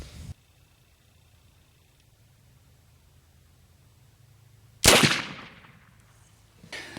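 A single sharp shot from a .36 caliber black powder long gun loaded with homemade powder, loud and close, with a decaying outdoor tail and a second burst at the end after a quiet stretch.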